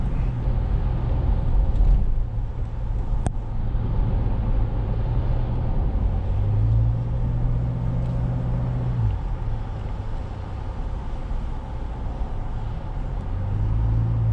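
A 2023 Toyota Prado VX driving at sunset, a steady low engine and road rumble heard from inside the cabin, with gear-like shifts in engine tone partway through and no talk.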